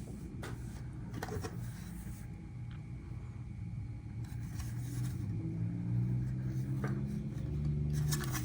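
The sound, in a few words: opening packaging of a Paris 64 Liberty Work BMW i8 diecast car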